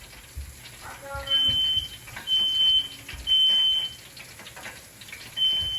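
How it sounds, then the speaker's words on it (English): A smoke alarm beeps in repeated high-pitched bursts at a steady rhythm over faint kitchen sounds and a brief voice. "There goes the alarm again."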